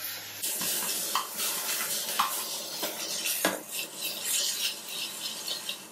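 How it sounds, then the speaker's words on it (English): Beef pieces browning in a pan on an electric stove, with a soft sizzle under repeated scraping and clinking of a utensil against the pan, close and fairly quiet. "Don't be discouraged by the colour at the bottom of the pan. That's all beautiful flavour. We're just browning those edges."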